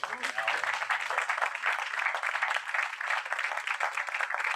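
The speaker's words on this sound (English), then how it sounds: "And let's give another round of applause to all the family members." An audience at a remembrance service applauds the family members with a steady, fairly quiet wash of clapping throughout.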